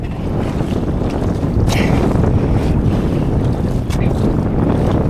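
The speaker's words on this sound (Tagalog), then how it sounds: "Biglang lumakas mo ng hangin." Strong wind roars steadily at sea during night fishing, buffeting the microphone with constant loud rushing noise and occasional gusts.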